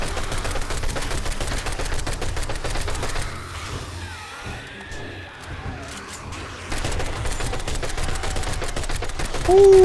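Submachine gun fire in a video game set on desert and snow horde nights: loud, rapid full-auto bursts that stop for a quieter stretch of a few seconds, then resume just as dense and continuous.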